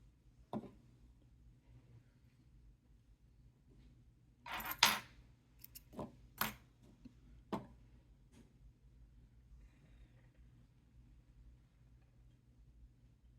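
Cutting pull-throughs for fishing rod trim bands: a short cluster of faint snips and small clicks comes midway, close by, amid a quiet background with no one talking.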